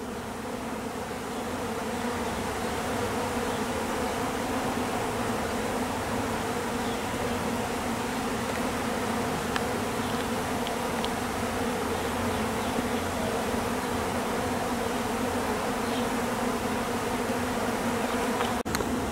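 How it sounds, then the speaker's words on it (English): A honey bee swarm streaming out of its hive produces a dense, continuous buzzing drone that holds steady and loud throughout, close by, with no talking. "Yeah, it's a full-fledged swarm."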